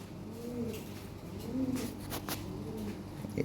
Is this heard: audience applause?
no